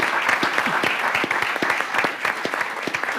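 Steady applause from a conference audience thanking a panel on humanitarian action, many hands clapping densely and evenly without a break.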